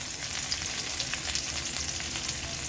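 Pirandai sautéing in a pan for chutney, a dense continuous sizzle with faint stirring scrapes, close and steady throughout.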